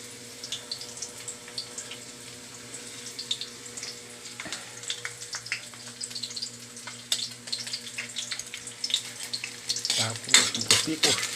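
Onion tossed into a hot pan already frying garlic gives a steady low sizzle with crackles and stirring clatter that swell louder near the end, alone without talk.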